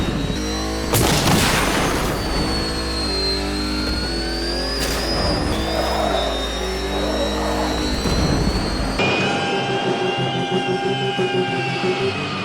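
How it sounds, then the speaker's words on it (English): The Batmobile drives in Batman: Arkham Knight, a loud continuous engine roar with a rising high-pitched whine and jet-like hiss, punctuated by a couple of sharp bursts before the tone shifts. "it seems to only have that high-pitched sound when it's driving in the tunnels, not outside."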